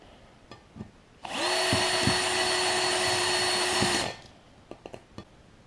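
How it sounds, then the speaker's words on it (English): Power drill running steadily for about three seconds as it widens holes in a metal fruit can for a gasifier stove, loud and close, with faint handling clicks before and after. "now I'm going to change bits and make all those a little bit wider"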